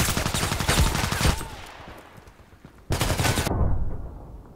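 Video game gunfire in dense, rapid bursts, loud and close, with one long stretch of shots, a short lull, then another heavy burst before it fades.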